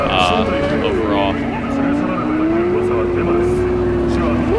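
Virtual car in Cyberpunk 2077 driving hard, engine tone rising and sliding steadily with squealing tires, loud and continuous throughout, with a voice speaking over it.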